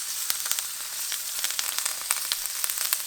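Rosemary and thyme sizzling in hot butter in a cast iron pan while a steak sears: a steady, fairly quiet crackle with sharp spitting pops scattered throughout, no talk.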